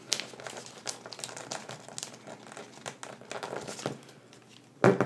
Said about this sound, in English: So we'll fold this edge to the center